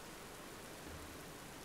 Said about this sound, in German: Aber es regnet wirklich heftig hier.